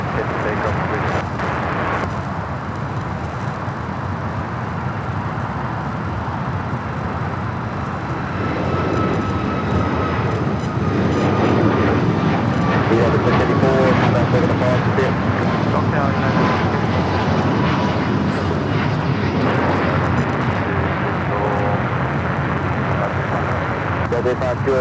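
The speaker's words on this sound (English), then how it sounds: "Next takeoff, United Airlines Flight 684 heading to Seattle. It's 737 at max 9." A United Airlines Boeing 737 MAX 9 bound for Seattle takes off from LAX runway 25R, its engine roar building steadily and holding loud and broad across the airfield while a commentator talks over it.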